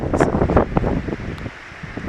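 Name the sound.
wind on a hilltop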